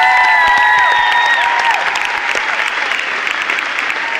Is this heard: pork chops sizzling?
no